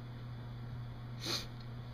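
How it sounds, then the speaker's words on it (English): A single short, sharp nasal sniff, from a stuffy nose due to allergies, stands out once against a quiet room hum, close and brief. "going to sniff my nose a lot because my allergies are going crazy"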